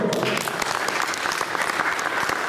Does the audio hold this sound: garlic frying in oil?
no